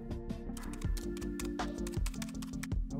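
Fingers type on a compact keyboard for an iPad Air 5, a close, steady patter of light key clicks over soft background music.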